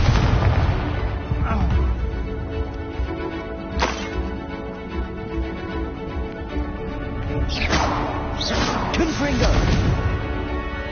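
Confringo blasting spells explode in Hogwarts Legacy combat: loud, sharp booming cracks strike several times over a rumbling game soundtrack, with a voice speaking between the blasts.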